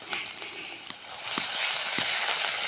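Turmeric, salt, chili powder and ground spice paste sizzling in a pan while being stirred for a mustard pabda fish curry, a steady close frying hiss with a few sharp crackles.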